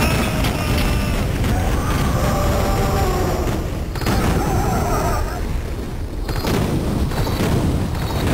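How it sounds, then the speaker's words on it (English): Explosions in the Pro Nukem 3D video game go off repeatedly, dense booming blasts and gunfire-like bursts filling the whole stretch with continuous loud noise. "I'm gonna try to absorb some of the explosion."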